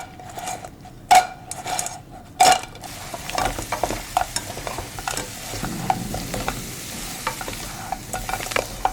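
Fried silverside fish being stirred in a pan with garlic, chili and sugar, giving a soft steady sizzle with scraping stir strokes and a couple of sharp utensil knocks on the pan early on.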